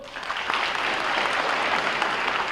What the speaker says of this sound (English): Clap if you've seen the movie but haven't read the book.